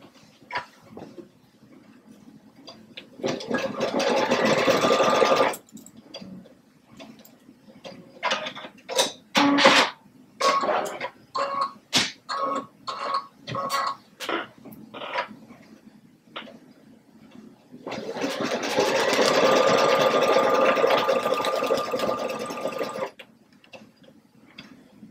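A sewing machine stitches a Thanksgiving hot pad in two long runs of rapid, even mechanical whirring, separated by a stretch of scattered clicks and ticks from handling the machine.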